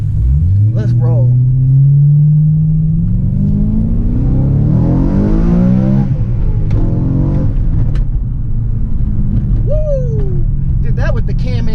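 BMW E92 M3 V8 driven hard, very loud and close, with revs sweeping up through the gears, sharp pops and crackles on lift-off, and rumbling between pulls.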